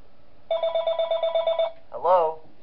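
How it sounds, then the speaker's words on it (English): Telephone in the video game Five Nights at Wario's Rebooted ringing with one long, buzzy trilling ring, followed after a short pause by a brief warbling electronic tone, loud and close, with no talk. "we're getting a phone call"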